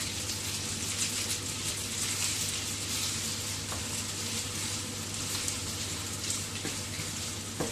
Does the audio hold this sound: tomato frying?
yes